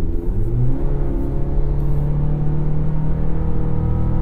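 A 2024 GMC Canyon AT4X AEV pickup accelerating onto a highway while towing, with a loud, steady engine drone whose pitch rises as it gains speed under moderate throttle.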